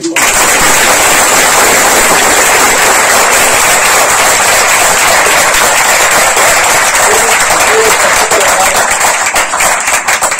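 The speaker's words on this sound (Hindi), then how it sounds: "पुनः एक बार तालियों से।" Students at CIMAGE College greet veteran actor Vineet Kumar with loud, sustained applause, dense crackling claps filling a large hall continuously for over ten seconds.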